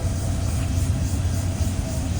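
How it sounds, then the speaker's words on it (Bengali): A train pulls in at Azampur railway station in Akhaura, Brahmanbaria, a steady heavy low rumble that holds throughout at a constant level. "হ্যাঁ, ট্রেন এসে পড়লো।"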